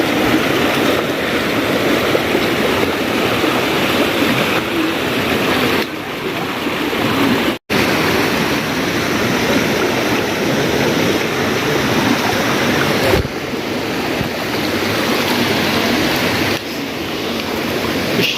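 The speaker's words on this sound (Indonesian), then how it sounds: "kita akan melewati aliran sungai yang keenam" A river stream rushes loudly and continuously at close range as hikers cross it on the trail to Curug Cisadane waterfall near Bogor, a dense, unbroken roar of flowing water.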